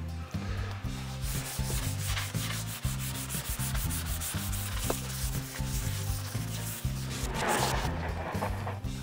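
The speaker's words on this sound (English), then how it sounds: "I've sanded it with 240 grit" Hardwood is sanded by hand with P240 grit sandpaper, producing close, rhythmic back-and-forth rubbing strokes in a steady repeating pattern, with no talking.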